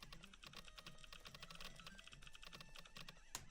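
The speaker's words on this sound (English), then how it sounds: "they added typing sounds onto the search feature" Computer keyboard typing sound effects in the search feature of the tower-defense game PokePath TD, a quick run of light, steady key clicks with one sharper click near the end.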